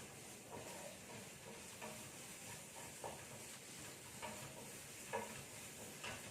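Ginger-garlic paste and chopped chilli frying over a high gas flame while being stirred in a pan, a faint continuous hiss and sizzle with soft intermittent scrapes.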